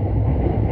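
Steady low rumble of a Hokuriku Main Line limited express train (Dinostar) running on rails, a continuous droning roar with wind-like noise, close and fairly loud throughout.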